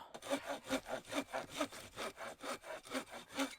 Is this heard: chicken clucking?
no